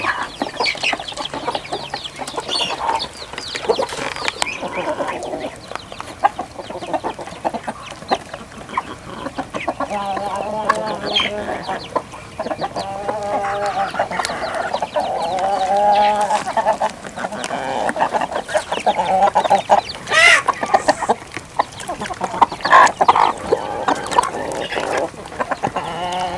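Chickens cluck continuously in a poultry yard shared with ducks, with overlapping close calls and squawks forming a busy, loud chorus throughout and no talking.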